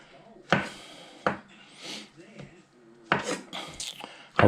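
A knife thuds against a wooden cutting board as food is chopped up for a breakfast omelet, with irregular close knocks and scraping sounds between, plus some faint background sound.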